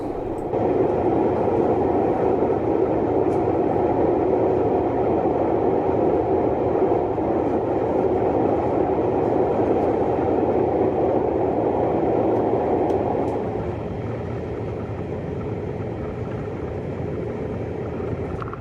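Steady rumbling roar of a train rolling across the Kent Viaduct, loud and continuous, easing slightly near the end.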